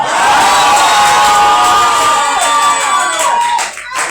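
A conference audience shouts and cheers loudly together, a dense sustained roar of many voices with whoops that fades slightly near the end.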